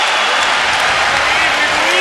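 A packed basketball arena crowd roars and applauds at a 2007 Warriors vs Mavericks first-round playoff game 6, a loud, continuous wall of cheering that fills every moment.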